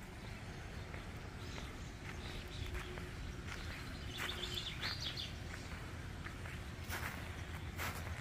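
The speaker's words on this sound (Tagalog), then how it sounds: "Madami talagang ibon dito, guys." Small birds calling in the woods during a walk, faint scattered chirps rising above a constant outdoor hiss, with soft footsteps on the path.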